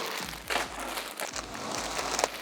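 Close, crisp crinkling of a plastic shipping bag being opened, with several short rustling bursts over a couple of seconds.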